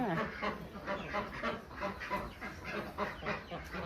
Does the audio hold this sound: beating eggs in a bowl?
no